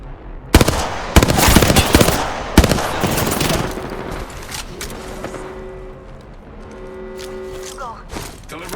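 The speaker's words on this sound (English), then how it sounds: "I'm getting shot at." Rapid bursts of automatic gunfire in an Apex Legends firefight, loud and close with sharp repeated cracks, then fading into quieter game ambience and tonal effects while a voice speaks over it.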